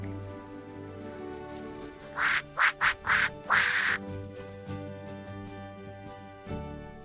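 Five quick duck quacks in a tight burst, heard over soft, steady background music.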